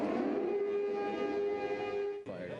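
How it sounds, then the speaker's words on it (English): Air raid sirens wail in Haifa, a steady drone, loud and sustained, then dipping briefly near the end before resuming. "As we stood outside the destroyed apartment, another series of sirens."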